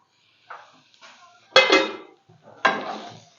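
A lid comes off a pot of keema cooking for a Lahori bun kabab, with a couple of sharp metallic clanks and scrapes of lid and cookware, close and clear.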